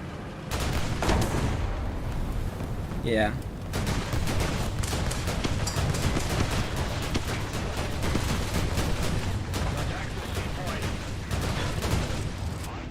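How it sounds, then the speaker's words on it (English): Rifle fire from an M4 during an online military shooter match, with dense rapid bursts and distant booms running continuously under players' voices talking over the action. "Is that just the M4 I'm hearing?"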